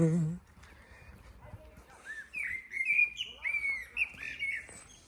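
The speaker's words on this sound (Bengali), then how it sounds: "পাখির আওয়াজ কিচির মিচির একদম নিরিবিলি একটা জায়গা" Birds chirp and tweet in quick, repeated bursts of high, bright calls over a faint, low background rumble, in a quiet forest near Zagreb, Croatia.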